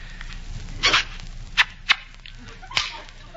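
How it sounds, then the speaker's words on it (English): A few sharp smacking hits land at uneven intervals, one slightly doubled, crisp and near against a quiet background. "I had to slap you, baby."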